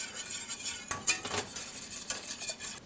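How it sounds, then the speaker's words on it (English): A whisk works beer cheese sauce in a pot, giving soft repeated metallic scrapes and clinks against the pot at close range, irregular but steady, with a faint simmering hiss beneath and no talking. "Try and do a figure 8 with your whisk whenever you're whisking."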